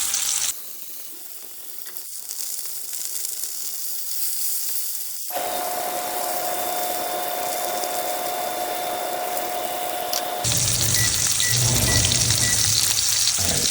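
Pork chops sizzle steadily in a hot pan, a close, continuous frying hiss that grows brighter and louder toward the end, with no voices.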